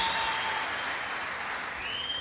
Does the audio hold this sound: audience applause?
yes